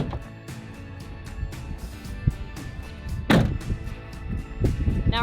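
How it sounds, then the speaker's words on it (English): A campervan door is worked from the inside, giving a few knocking thunks and a sharp latch clack near the middle, up close and without talk. "It's to open the door from the inside."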